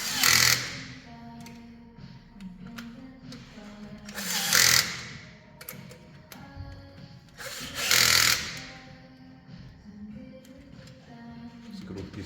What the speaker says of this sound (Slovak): Skrutky si zatiahneme opatrne, aby sa nám nepoškodili alebo neotrhli.